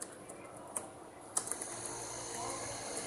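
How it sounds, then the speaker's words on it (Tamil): Typing on a computer keyboard while entering Tamil text in Notepad, with a few sharper key clicks among faint, quiet tapping over a steady background hiss. "பார்த்தீங்கன்னா நோட்பேடில் கூட நம்மளால் டைப் பண்ண முடியுது."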